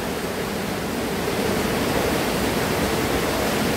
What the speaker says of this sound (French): Et la rivière qui coule de l'autre côté.